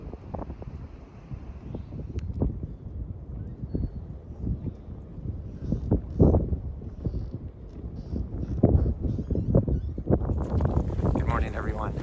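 Breezy wind gusting outdoors on the Appalachian Trail, buffeting the microphone in uneven rumbling surges with some rustling, rising louder toward the end.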